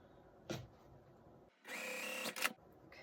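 A domestic sewing machine stitches two quilt blocks together for a basket-pattern quilt, one steady mechanical whir of about a second, close and fairly loud, with a short tap just before it and a brief burst just after.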